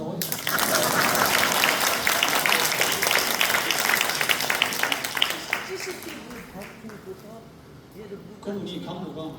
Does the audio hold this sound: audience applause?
yes